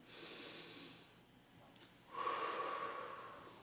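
A person draws in a slow breath during an upper-back stretch, a soft airy inhale up close, followed by a louder, stronger intake of breath.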